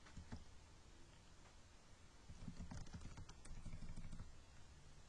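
Keystrokes on a computer keyboard while SQL is entered, a quiet run of soft clicks that grows busier and denser in the second half, with no talking.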